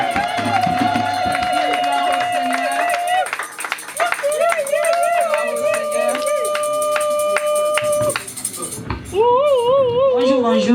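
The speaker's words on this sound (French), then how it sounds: "Quand elle passe, nous acclamons très fort le Seigneur." A church congregation at a seminar service in St-Etienne cheering, clapping and acclaiming loudly and continuously over music and singing voices.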